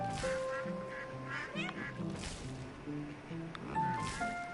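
Ducks quacking on a farm in the video game Farm Together 2, several nasal quacks and honks repeating over a busy game soundscape.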